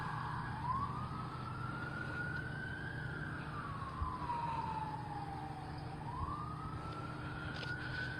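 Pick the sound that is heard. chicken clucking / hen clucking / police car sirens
police car sirens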